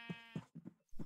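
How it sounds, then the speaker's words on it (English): Minecraft sheep bleating close and clear, three quick wavering bleats in a row, one split into two pulses, with no speech. "right now we got 6 sheep, it looks like"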